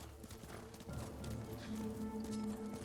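A horse galloping in the video game Ghost of Tsushima on Iki Island, rapid close hoofbeats pounding in a steady run throughout, with a faint whinny-like tone and no talk.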